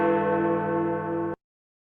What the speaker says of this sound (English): The bell's chiming.